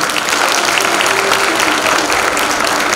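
A school audience applauds loudly and steadily throughout at a middle school's March 18 Çanakkale commemoration show in Kars; the clapping is dense, close and continuous with no voices.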